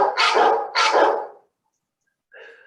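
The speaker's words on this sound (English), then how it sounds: "I really did have my husband's ringtone as a bark" Phone ringtone made from a dog barking: two loud, close barks in quick succession, a short silence, then the start of another bark or whimper.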